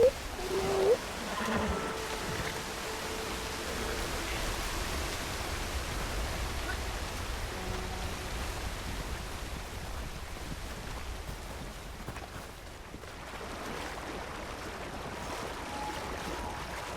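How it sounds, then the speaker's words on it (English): Steady broadband rush of falling water from a waterfall in Red Dead Online, a cold, partly frozen setting, continuous and fairly even throughout with no voices. "Should be behind the waterfall, I believe."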